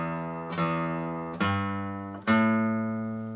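Three low notes picked one after another on a guitar's sixth string at an even pace, each ringing out and fading before the next, close and clear.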